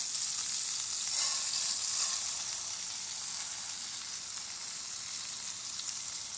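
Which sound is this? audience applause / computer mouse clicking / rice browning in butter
rice browning in butter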